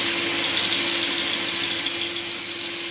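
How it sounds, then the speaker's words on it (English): A DeWalt three-speed hammer drill bores steadily at slow speed with a bit, giving a constant high-pitched squealing whine with a steady hum beneath it, close and continuous and with no talk. "DeWalt hammer drill 3-speed beast"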